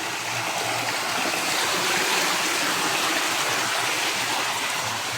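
A steady, loud rush of flowing stream water along a forest trail runs unbroken and close by, with no voices over it.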